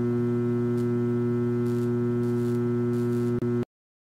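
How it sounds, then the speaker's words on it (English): A steady electrical hum with rich harmonics and faint buzzing crackles from high-voltage arcing on a Jacob's ladder, ending in a brief sharp snap before sudden silence. "when I bring it close to this wire, it'll arc"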